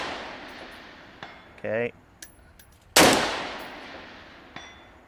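A gas gun fitted with a small Ritec muzzle brake fires one loud, sharp shot with a ringing decay, preceded by a brief metallic clink; a voice speaks briefly beforehand.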